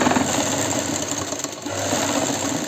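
A sewing machine stitching a baby lehenga runs in a steady, continuous mechanical whir, close and even, with no pauses and no talking.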